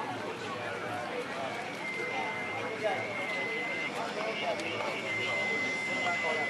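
A model jet aircraft lands at the Freestate Aeromodelers 2013 fly-in, its turbine whine holding steady at moderate distance amid outdoor field noise, with people talking throughout.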